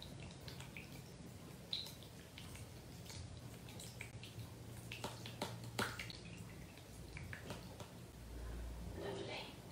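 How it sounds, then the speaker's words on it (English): Water splashes and drips in a bath in quiet, scattered bursts, with occasional sharper splashes and a louder swishing near the end, while a voice talks over it. "Listen to those splishes and splashes."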